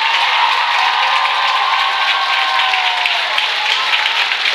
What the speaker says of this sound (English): let's get one more round of applause for our king and queen candidates